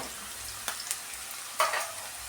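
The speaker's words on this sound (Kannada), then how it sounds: "ಬ್ರೌನ್ ಕಲರ್ ಆಗೋವರೆಗೂ ನಾವು ಫ್ರೈ ಮಾಡ್ಕೊಬೇಕು ಈ ಥರ" Grated coconut frying in plenty of oil in a pan for coconut sambar, a soft steady sizzle with a few brief stirring scrapes, close by and with no talk.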